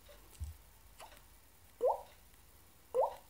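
A voice imitates water drops: a soft click, then two clear watery plunk sounds about a second apart, each a quick rising pitch, with faint clicks before them.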